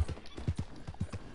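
Horse hooves clip-clopping at a walk in Red Dead Redemption 2, a quick, uneven run of soft thuds close by, heard alone.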